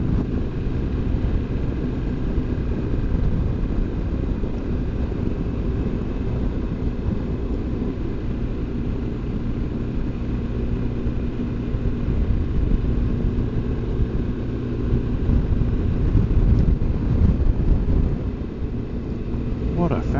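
A motorcycle cruises along an island road in Scotland, a steady low engine drone mixed with heavy wind rush across the helmet microphone, continuous for about twenty seconds with no clear gear changes.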